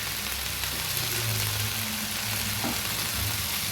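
Malabar spinach curry being stir-fried in an open pan, giving a continuous dense sizzle with a low rumble beneath and occasional soft turning sounds, close and steady throughout.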